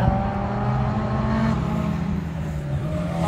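A Honda Prelude coupe drives along a race track with a steady, loud engine drone that swells slightly as it passes nearby, with no talking over it.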